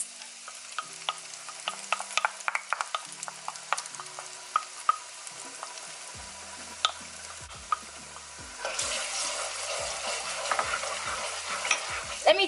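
A pot of jollof rice ingredients is stirred and fried, with irregular scraping clicks and clinks of the spoon over a soft sizzle that swells into a steady, louder frying hiss near the end.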